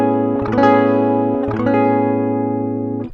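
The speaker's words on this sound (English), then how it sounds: "I have my guitar plugged direct to my audio interface" A clean electric guitar plugged straight into an audio interface, with a few strummed chords ringing out dry and sustained, each struck and left to decay.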